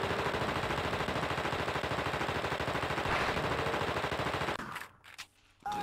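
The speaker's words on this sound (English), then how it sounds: "dump your machine gun into him" Sustained rapid machine gun fire from a video game, The Thing, loud and continuous for several seconds before cutting out briefly and resuming.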